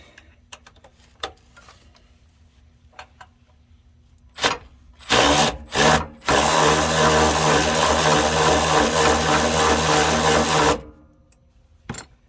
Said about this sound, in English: Let's use the new tool. The Makita ratchet.